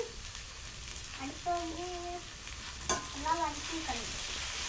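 Banana flower sautéed in oil with salt, a soft steady sizzle with gentle stirring scrapes, while voices talk briefly in the background.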